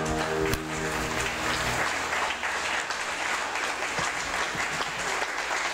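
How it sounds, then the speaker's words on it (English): Pageant audience at the Miss Polonia USA 2015 event gives a big round of applause for the jurors, loud sustained clapping from a large crowd filling the hall, with brief music at the start fading under it. "Big round of applause for them."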